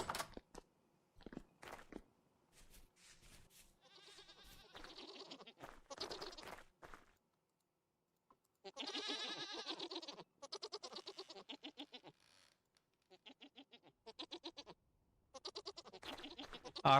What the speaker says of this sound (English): All right, you goats.